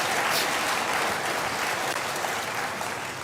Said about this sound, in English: maybe you want to give her a round of applause